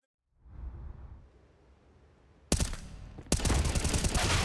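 Gunfire on Counter-Strike's Overpass map: a faint whoosh, then sudden loud bursts of rapid shots starting partway through and continuing densely to the end.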